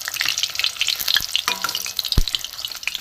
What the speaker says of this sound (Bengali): এগুলো একটু লাল লাল করে ভাজা হয়ে গেছে